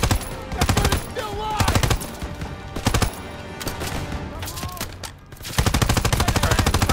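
Rapid, loud bursts of machine gun fire in the Call of Duty video game, repeating in dense volleys with brief pauses, with shouted voices and battle noise mixed between the bursts.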